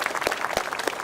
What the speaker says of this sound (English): Give him a round of applause for what he does.